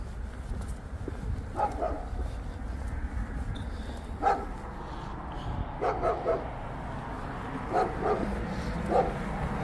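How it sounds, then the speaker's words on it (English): A dog behind a gate barks in short bursts at a distance, repeating every second or two over steady outdoor background noise, with no one speaking. "Dog behind the gate barking over there."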